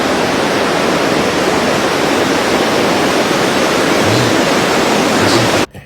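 Floodwater rushing after the Guadalupe River burst its bank in Texas, a loud, continuous broadband roar of churning water that cuts off abruptly at the end.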